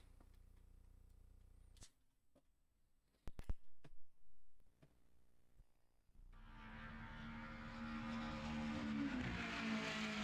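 Kart engine revving in Mario Kart 64, a steady buzzing whine that rises and holds loudly through the last four seconds, after a few sharp clicks and short menu-like tones.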